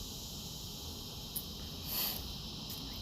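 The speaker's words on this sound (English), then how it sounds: "I know y'all can hear the cicadas." Cicadas drone outdoors at a tailgate in Nashville as a steady high-pitched buzz, with faint swells and short bursts laid over constant low background rumble; no voices.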